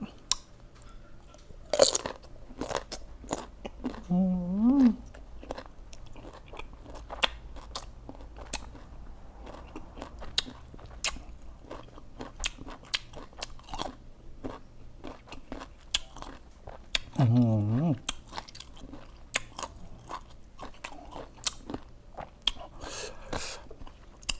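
Crunchy fresh green mango, a crisp unripe variety, bitten and chewed up close, with sharp crunching bites followed by steady wet chewing and occasional crackles, with no talk over it.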